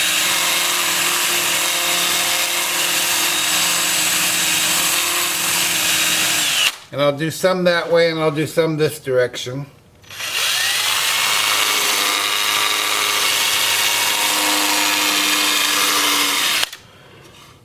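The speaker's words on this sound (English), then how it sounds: "I'm going to start the sanding with my Sandoflex just on the bark area here." A Sandoflex sanding tool works over the bark of an oak-root bowl, a steady loud whirring hum that runs for long stretches, stops briefly while someone speaks, then resumes and cuts off near the end.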